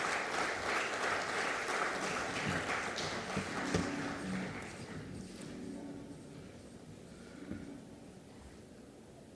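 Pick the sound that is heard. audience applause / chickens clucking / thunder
audience applause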